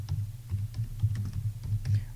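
Someone types a search query on a computer keyboard, producing a quick, irregular run of close, crisp key clicks over a short burst.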